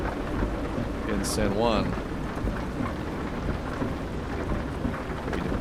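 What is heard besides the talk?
rain and thunder in the video game Euro Truck Simulator 2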